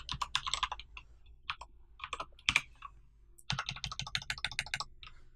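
Rapid clicking of computer keyboard keys while typing a script tag into code, bursts of close, crisp keystrokes separated by short pauses.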